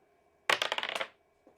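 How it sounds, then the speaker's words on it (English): Dice rolled during a tabletop game: a brief rattling burst of several quick clicks as they tumble and settle, loud and close, then a faint tap afterward. "I need you to roll some dice for me"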